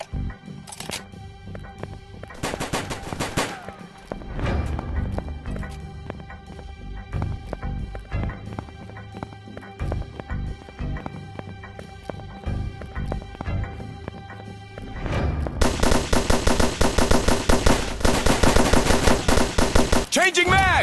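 Rapid gunfire from a mobile shooting video game, with bursts of automatic fire and single shots building to a dense, loud volley near the end, alone without talk.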